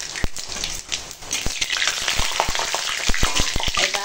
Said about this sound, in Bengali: কড়াই তেল দিয়ে তেজপাতা দিয়েছি আর দেবো গোটা জিরে ফোড়ন।